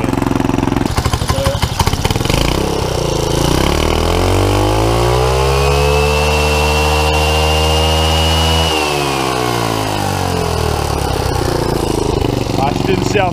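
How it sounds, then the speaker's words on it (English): A loud turbocharged scooter engine running with no air filter revs up and holds a high, strained note, with a rising turbo whine spooling above the rough engine drone before it settles back down. "You can probably hear the turbo spooling up now."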